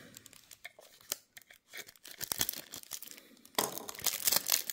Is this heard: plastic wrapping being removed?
yes